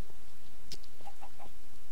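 A chicken in Minecraft gives a few short, soft clucks in quick succession over quiet background ambience.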